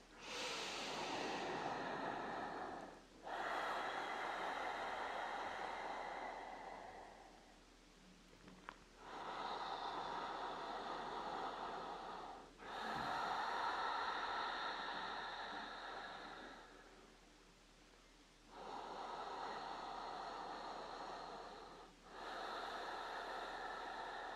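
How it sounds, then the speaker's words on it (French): Deep, slow belly breaths during a hip mobility exercise: several long, loud inhale-exhale cycles of steady airflow, each lasting a few seconds and separated by brief pauses, close and alone with no talk. "on respire profondément par le ventre, plusieurs fois."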